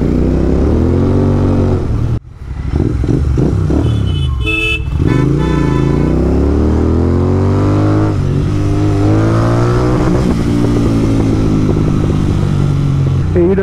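Royal Enfield Interceptor motorcycle with an AEW TE 101 exhaust on a quiet back road, loud close engine rumble with rising and falling revs, a sharp blip and drop near the start, deep throaty tone throughout.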